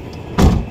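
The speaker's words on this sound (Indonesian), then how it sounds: "pintu juga enak nutupnya" A door of a 1994 Toyota Kijang Grand Extra Long 1.5 shuts with one solid, close thump that rings briefly in the low end, heard alone over steady outdoor background noise.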